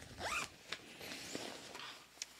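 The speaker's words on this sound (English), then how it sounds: "Oh, it is a zipper." A zipper on Saysky running pants is pulled in a few quick, close rasping strokes, fairly quiet and heard on its own without talk.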